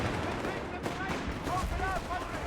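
MG34 machine gun and Thompson submachine gun fire trade in a Company of Heroes 3 match, a dense, continuous crackle of automatic bursts that runs the whole time, with a voice faintly present in the mix.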